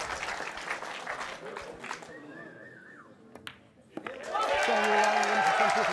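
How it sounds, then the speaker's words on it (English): Audience at a pool tournament semi-final breaks into loud applause and cheering, with a burst of clapping and crowd noise swelling at the end after quieter moments with ball clicks and commentary. "He's cheering like he's won the match."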